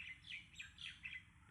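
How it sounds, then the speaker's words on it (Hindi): Birds chirp and tweet outdoors among trees during moderate rain, with a series of bright, close calls repeating in short bursts over a low, steady background. "यहां पर पक्षियों की चहचहाहट है"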